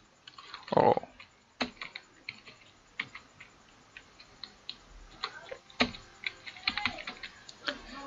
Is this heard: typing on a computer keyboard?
yes